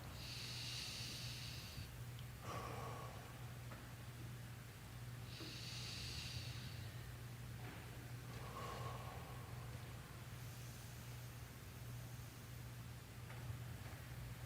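Slow, deep breaths in a guided breathing exercise during a sermon: three or four long, soft airy inhales and exhales spaced several seconds apart, heard close over a steady low electrical hum with no talking.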